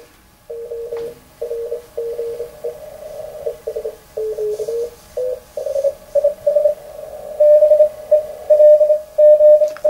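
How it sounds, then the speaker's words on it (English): A narrow APF filter on a K3 amateur radio rings on a series of short tonal pulses, like Morse code keying, that grow steadier and louder toward the end, with no talk. "there's some ringing there, which you'd expect, of course, with such a narrow filter"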